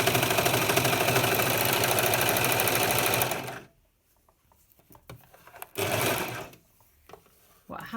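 Sewing machine stitching calico fabric, a fast rattling mechanical run for about three seconds, then quiet with a second short burst of stitching near the end.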